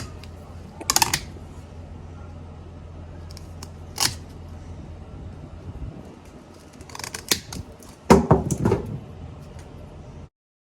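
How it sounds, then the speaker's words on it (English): Pruning shears cutting back a Dracaena Marginata stem indoors, with a few sharp, close snips and clicks separated by quiet gaps, then a louder crunching cut near the end, no talking. "So what I'm going to do is I am going to cut this back again from here."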